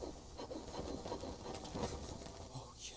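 Hand drill spun on wood for fire-making in the survival game Green Hell, a close, continuous rubbing and rasping friction sound over about three seconds.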